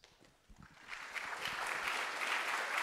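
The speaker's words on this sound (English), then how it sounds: "Thank you for the applause." Audience applause at a Stanford conference on Bitcoin scaling, a dense patter of clapping that swells from a few scattered claps to a full, steady round filling the room.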